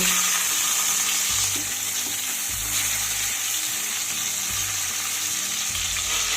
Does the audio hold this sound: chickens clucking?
no